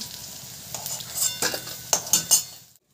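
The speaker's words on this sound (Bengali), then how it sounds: "আমি ধোকাগুলোকে ভালো করে একটু লাল করে ভেজে নিয়েছি" Dhoka lentil cakes browned in hot oil in a pan: a soft, steady sizzle broken by several sharp metal clinks and scrapes of a utensil against the pan, close and without talk, ending abruptly.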